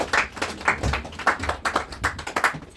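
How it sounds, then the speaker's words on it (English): Applause from a lecture audience at a magic club event, a brief patter of claps close by, uneven and fairly light, lasting under three seconds with no voices over it. "Round of applause for my buddy Grant"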